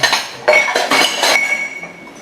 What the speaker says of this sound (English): I'm just going to reach in the cupboard here and see if I find a spoon